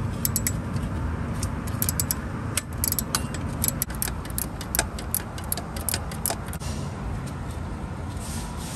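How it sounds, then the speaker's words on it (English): A ratcheting wrench works on a bolt deep in the engine bay of a 2011-2021 Ford F-150, its quick mechanical clicks coming in irregular bursts over steady background noise, with no talking. "I'm gonna try to get it with the ratcheting wrench."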